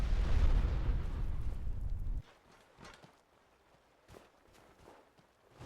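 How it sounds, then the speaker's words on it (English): A heavy, rumbling explosion from a ship's fireball bombardment of an island in a video game opens loud and booming, then cuts off abruptly and gives way to quieter scattered thuds and crackles. "They must be bombing it from their ship. Shooting it with fireballs."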